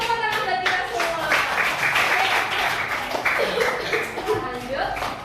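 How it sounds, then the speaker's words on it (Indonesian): Children clapping together in a primary school classroom, a steady patter of many small hands that goes on throughout, with voices chattering and laughing over it. "Tepuk tangan buat kita semua."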